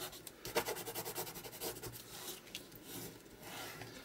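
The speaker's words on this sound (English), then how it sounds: "I'm just going to give that a rub just to make sure that the tape is stuck" Tape is rubbed down onto a card in quick, soft back-and-forth scratchy strokes, faint and close, with no talking.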